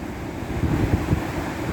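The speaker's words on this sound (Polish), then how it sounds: "Wzburzone morze." Rough Baltic Sea waves roll and wash ashore while gusty wind buffets the microphone, making a loud, continuous roar with low thumps.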